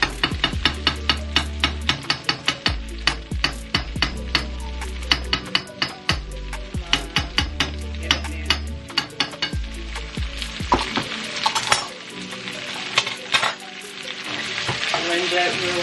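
Tomato paste fries with chicken in a hot pan, a dense sizzle broken by rhythmic scraping strokes and clacks of a utensil stirring, continuing steadily and close up.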